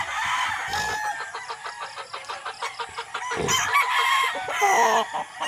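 A red Kelso broodstag and other gamefowl roosters crowing loudly and close, with harmonic calls overlapping and brief clucks mixed between the crows.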